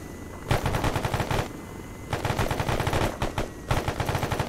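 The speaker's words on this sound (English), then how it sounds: "They are shooting at us" Rapid automatic gunfire in the military shooter ArmA 3, loud sustained bursts of machine-gun fire broken by short pauses, dense and close throughout.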